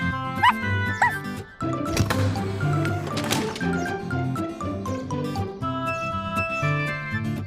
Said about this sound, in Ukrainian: Цуценя прибігло в автосервіс.